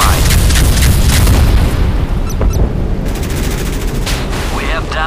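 Explosions and booms from an enemy hit striking a warship in the Modern Warships naval combat game, the USS Gerald R. Ford aircraft carrier, with dense rumbling blasts and crackling gunfire under a continuous loud battle din.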